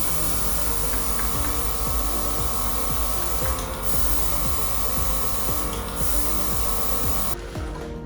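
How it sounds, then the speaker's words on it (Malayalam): Airbrush spraying gold colour onto a damaged chocolate ganache drip cake under repair: a loud, continuous close hiss with a faint ticking mechanism underneath, briefly pausing a couple of times and cutting off near the end. "ഞാൻ കുറച്ച് ഗോൾഡ് ഷെയ്ഡ് കൂടെ കേക്കിന് അടിച്ചു കൊടുക്കട്ടെ."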